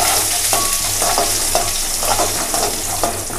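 Steady loud sizzling of onions frying in a pan for vendakkai puli kulambu, with occasional scraping stirs of a spoon, close up and without talk.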